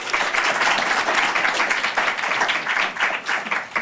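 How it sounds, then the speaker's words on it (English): An audience claps for a panel at a conference, producing steady, moderately loud applause from many hands that lasts the whole stretch with slight swells and dips and no voices. "So can we have a round of applause for the panel,"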